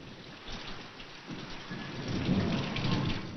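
Steady rain pours down in a thunderstorm while a low rumble of thunder builds and swells toward the end, a dense continuous wash of falling water with no voices.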